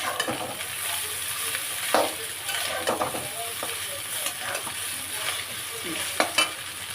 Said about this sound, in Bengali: এইবারে আমি ওই চাউমিনগুলো দেবো অল্প অল্প করে অল্প অল্প দেবো অল্প অল্প নাড়াচাড়া করবো